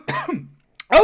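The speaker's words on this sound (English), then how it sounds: "That made me cough, that did." A woman coughs after sipping rhubarb and ginger gin, a couple of sharp, close throaty bursts with a brief pause between, followed by a small throat-clearing catch.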